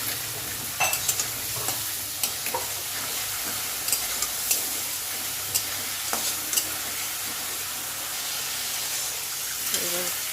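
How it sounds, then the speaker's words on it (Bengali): Spiced curry masala sautéed in a pan after a splash of water, a constant loud hissing sizzle broken by frequent spoon scrapes and clinks against the pan, close up and without talk. "ভালো করে করতে কষানো হয়ে গেছে, একটু জল দিয়ে আবারও কষিয়ে নিচ্ছি"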